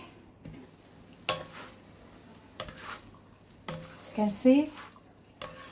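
Palabok sauce simmers in a pan while a utensil stirs it, giving occasional knocks against the pan and a faint bubbling sizzle in between. A person speaks briefly over the cooking.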